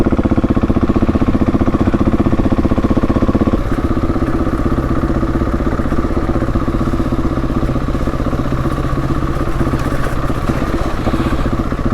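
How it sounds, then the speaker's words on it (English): A Husqvarna 701 Enduro motorcycle engine braking in second gear down a mild off-road slope, its steady mid-pitched engine drone running continuously and loud with a slight shift in tone a few seconds in, no talking. "engine braking in second is holding it quite well too"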